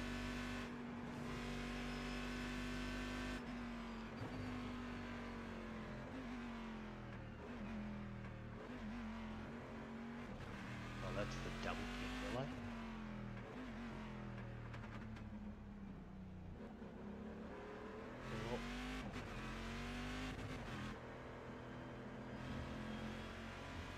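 V8 race car engine in the iRacing simulator, a deep throaty roar that climbs and drops repeatedly through gear changes and revs, steady and up close for the whole stretch with no talking.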